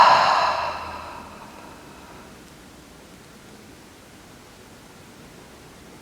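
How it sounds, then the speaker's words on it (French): A slow, breathy exhale during a kundalini yoga breathing exercise, loudest at the start and fading over about two seconds into quiet room hiss, with no talk. "Et on expire."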